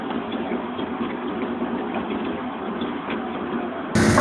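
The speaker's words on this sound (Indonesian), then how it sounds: "Mesin pancing cumi-cumi otomatis memiliki reel atau drum untuk menggulung benang pancing." An automatic squid fishing machine on a Korean fishing boat turns its reel drum to wind in line, a steady, muffled motor hum and rattle that carries on evenly, then grows louder and brighter at the very end.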